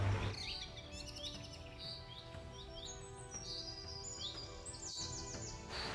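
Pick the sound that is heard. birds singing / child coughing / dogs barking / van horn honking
birds singing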